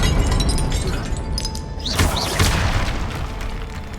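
Blasts from the Confringo spell in Hogwarts Legacy boom out amid dense, crackling game noise, with sharp impacts near the middle, loud and close.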